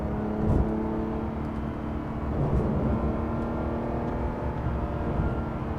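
A Porsche 911 GT3 RS engine drones loud and steady from inside the car, swelling briefly as it downshifts and then pulling on under acceleration, with no voices.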